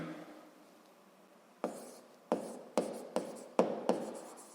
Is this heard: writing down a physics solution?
yes